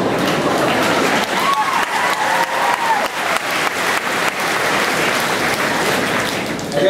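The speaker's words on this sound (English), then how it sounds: "Crowd goes wild." A large audience at a senior mass breaks into loud, sustained applause, a dense continuous wash of clapping that holds steady throughout without letting up.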